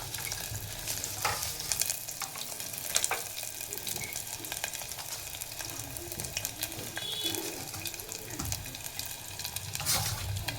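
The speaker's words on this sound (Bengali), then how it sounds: "রসুনটাকে হালকা করে ফ্রাই করে নেবে ভালো করে" Garlic frying lightly in a pan for a coriander leaf pickle, a constant close sizzle with now and then a scrape of a stirring spoon, fairly even in loudness and with no speech.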